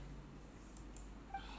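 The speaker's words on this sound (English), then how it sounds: "Wait, can I summon two cats?" A summoned cat from Lyney's ability in Genshin Impact gives a brief, faint meow over quiet game background, alone and short.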